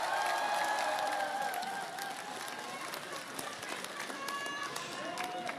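An audience at a political party concert applauds steadily, dense clapping mixed with scattered cheers and crowd noise, holding at an even level throughout.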